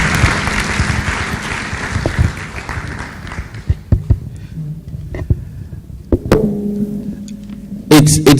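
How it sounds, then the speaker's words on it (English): A crowd claps loudly, the applause thinning out into scattered individual claps and then fading away, with a few clattering sounds near the end. "Let's give another round of applause to"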